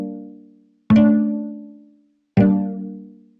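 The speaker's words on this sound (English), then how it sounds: "I recorded a bunch of notes with my acoustic guitar again" Acoustic guitar chord notes, recorded separately and pitched down an octave, ring out in two slow, loud strums, each decaying gradually with a deep, warm tail and no talk.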